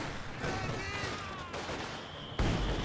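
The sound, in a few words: light machine gun fire in Company of Heroes 2 video game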